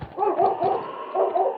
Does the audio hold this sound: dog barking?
yes